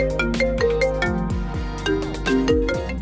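A phone ringtone plays as a call is placed during a holiday, a bright melodic tune of repeating chiming notes over a steady low backing, loud and continuous with no talking.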